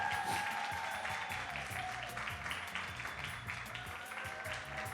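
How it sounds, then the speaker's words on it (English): An audience claps steadily at a gala runway walk, cheering a woman on. The applause is dense and continuous, with a low rumbling background beneath it. "Clap it up for her"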